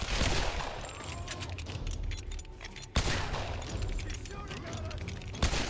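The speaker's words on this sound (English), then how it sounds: "She's shooting at us." An enemy fires at the player in Tomb Raider (2013), giving dense, continuous rapid gunfire with a couple of sharper bangs, loud and close, while voices are faintly mixed in.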